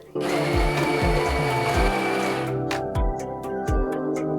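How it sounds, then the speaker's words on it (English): An electric coffee grinder grinds a dose of coffee beans into a cup, a loud steady whirring drone with a brief pulsing rhythm that cuts off abruptly, followed by faint rattling bits. "now we're ready to grind our coffee. Simply hit the button that says grind."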